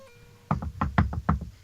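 Banging on a door in the video game Cupid: a quick burst of about six heavy, dull knocks in an uneven rhythm, close and loud, with no talk over them.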